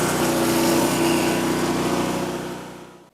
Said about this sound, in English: You can kind of see the power washer ate up a lot of that moss